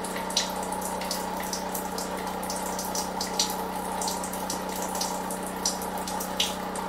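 Water runs steadily from a tap, a continuous splashing flow with occasional small drips and spatters, close by and fairly quiet.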